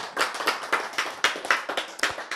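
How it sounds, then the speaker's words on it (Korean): An audience at a Korean sermon claps in a quick, rhythmic burst, a series of loud, close hand claps repeating at an even pace for a couple of seconds. "참 박수"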